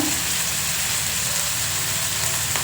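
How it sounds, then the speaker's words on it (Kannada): Two tomatoes sizzle in one or two spoonfuls of hot oil for a tempering, giving a close, dense, unbroken crackling hiss that holds steady from start to end with no talk. "ಸ್ವಲ್ಪ ಒಂದು ಎರಡು ಸ್ಪೂನಷ್ಟು ಎಣ್ಣೆ ಹಾಕ್ಕೊಂಡು ಎರಡೇ ಟೊಮೊಟೊ ಒಗ್ಗರಣೆ ಕೊಟ್ಟು"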